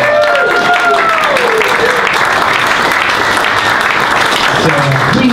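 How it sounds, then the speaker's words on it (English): Audience applause at a Science on Tap evening talk about grizzly bears, loud and sustained throughout, with a few voices talking over the clapping. "Let's give them a real round of applause"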